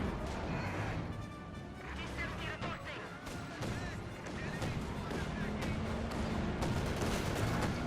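Battle sounds in the strategy game Company of Heroes 2, an Ostwind anti-aircraft vehicle firing during a 1v1 match; dense bursts of gunfire and explosions over a continuous rumble, with commentary spoken over it throughout.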